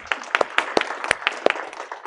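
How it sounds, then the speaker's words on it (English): Lone person clapping after a lecture about a hardware-accelerated database, a dozen or so uneven, sharp claps spread over two seconds, close and alone in a quiet room. "I was just clapping for myself."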